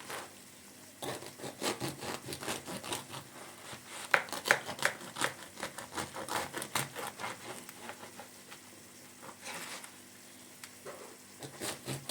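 A knife cuts through a loaf of whole wheat bread made with olive oil, giving a quiet, irregular series of crisp crust crunches and sawing scrapes across several seconds, close and faint with no talk.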